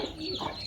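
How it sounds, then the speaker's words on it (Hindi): Pigeons cooing softly while pecking at grain in a village coop, a low, faint murmur over a steady background hiss. "सारे जो कबूतर है वो ऊपर आए हैं"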